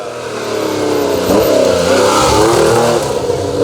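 A big Porsche rally car on a Safari rally stage in East Africa, its engine revving loud and close, rising and holding in a sustained roar as it accelerates, with no talk.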